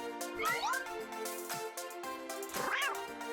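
A kitten meows in the video game Avatar World, giving two rising, bright cries over a tinkling game music background, close and fairly loud, with no talking.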